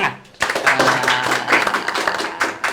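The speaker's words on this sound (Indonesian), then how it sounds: "Tepuk tangan." A small group at a Sundanese village podcast claps their hands together. After a short pause the applause starts suddenly and continues as a steady, close patter for over two seconds.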